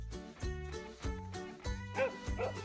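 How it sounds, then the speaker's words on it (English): A dog gives a series of short, close yips and barks in a quick, uneven rhythm, with a few higher whimpering notes near the end. "It's a dog."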